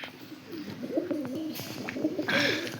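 Soft, throaty cooing of white Malwai pigeons with white eyes close by, repeated low rolling calls with a few faint rustles.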